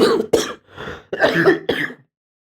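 A run of harsh, close coughs from a man who is unwell, three or four rough bursts in quick succession with a throat-clearing quality, then silence.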